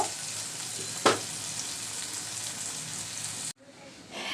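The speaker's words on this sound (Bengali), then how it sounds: "হয়ে গেল আমার চিংড়ি দিয়ে শাপলা ভাজি এবার নামিয়ে নিব" Water lily stems and shrimp frying in a pan, a steady loud sizzle with a sharp burst near the start, then the hiss cuts off abruptly as the pan comes off the heat.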